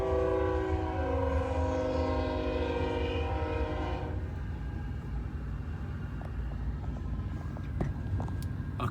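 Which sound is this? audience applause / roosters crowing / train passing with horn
train passing with horn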